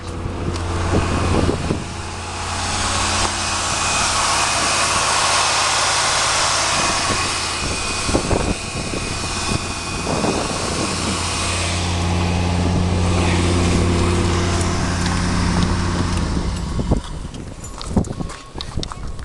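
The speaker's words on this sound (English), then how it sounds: "the engine does sound pretty nice" A fuel-injected 1986 Pontiac Trans Am engine runs at a steady idle, a constant low rumble with a dense hum that holds loud and close for the whole stretch, with a few faint knocks over it.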